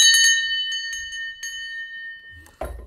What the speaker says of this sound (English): I'll just ring the bell instead.